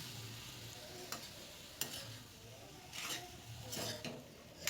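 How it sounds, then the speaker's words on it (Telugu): Sprouts are stirred into gojju in a pan, with soft scraping strokes and a few light clinks over a faint, quiet sizzle. "ఇలా స్ప్రౌట్స్ వేసేసి ఈ పోపులోకి అంటే ఈ గొజ్జులోకి బాగా మిక్స్ అయ్యేలాగా మిక్స్ చేసేసుకుందాం"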